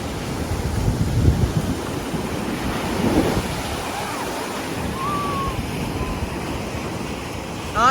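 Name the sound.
waves at Orange Beach, Florida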